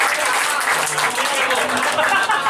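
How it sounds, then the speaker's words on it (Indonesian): Applause rises from a crowd at a leadership seminar, a close, loud wash of many hands clapping continuously and evenly through the short stretch. "Tepuk tangan dong"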